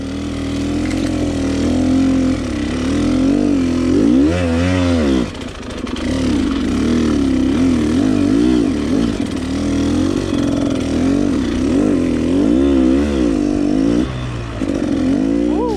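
A 2016 KTM 300 EXC two-stroke enduro motorcycle engine drones close and loud, lugging at low revs with repeated throttle rises and falls, steady throughout with a brief dip near the middle.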